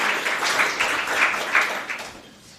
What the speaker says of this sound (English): I think you have earned a good applause